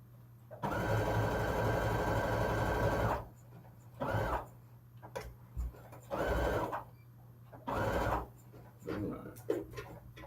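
Sewing machine stitching fabric for a flag: a sustained whirring run of about two and a half seconds, then several shorter bursts separated by pauses, close and moderately loud over a low background hum.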